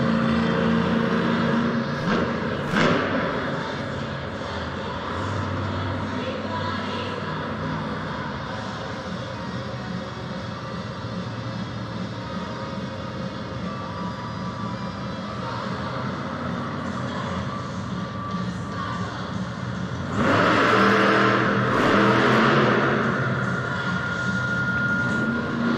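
A monster truck engine roars continuously at a Monster Jam freestyle event at Belmont Park, New York, during a sky wheelie attempt, loud and sustained with crowd-filled arena ambience and a surge in intensity near the end.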